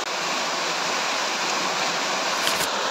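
A waterfall at Sikidiri near Ranchi, Jharkhand, gives a loud, continuous rushing roar heard up close, steady throughout with no voices.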